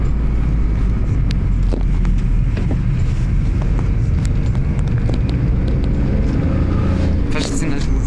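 A three-cylinder car engine runs steadily inside the vehicle, a loud, rough, continuous drone with people talking over it throughout.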